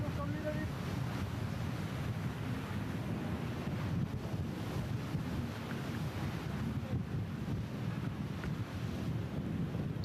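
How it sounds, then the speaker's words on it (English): A strong gust sweeps over the open sea off Les Sables d'Olonne as a racing sailboat arrives at the finish of the Vendée Globe, heavy wind buffeting the microphone with a broad, steady roar over the wash of waves. "The big gust hits him as he comes in."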